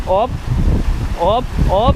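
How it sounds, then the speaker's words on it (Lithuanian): Heavy wind on Crete buffets the microphone in a steady low roar, with brief bursts of a voice cutting through now and then. "čia žiauriai stiprus vėjas"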